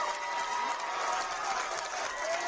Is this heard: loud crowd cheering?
yes